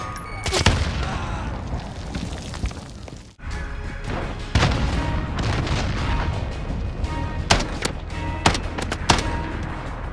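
A grenade goes off in Call of Duty amid surrounding gunfire, a sharp booming blast followed by scattered shots and further impacts across the battle soundscape.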